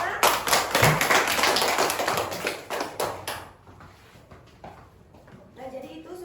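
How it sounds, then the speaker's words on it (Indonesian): Classroom applause for a student: a burst of brisk clapping from a group for about three seconds, then fading into room noise with scattered voices. "kasih tepuk tangan buat temennya"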